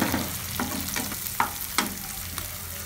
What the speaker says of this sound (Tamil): வெங்காயம் வந்து நல்ல golden brown ஆற வரைக்கும் நம்ம வந்து வதக்கணும்.